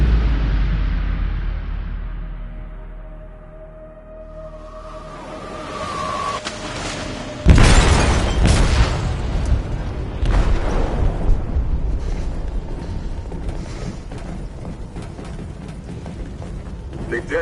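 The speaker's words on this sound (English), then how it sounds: "They detonated an explosive in the hold." An explosive detonates in a ship's hold in a PS4 video game: after a quiet, low rumbling build, a sudden heavy boom hits, followed by a long roaring, crackling rumble and further thuds as the blast rolls on.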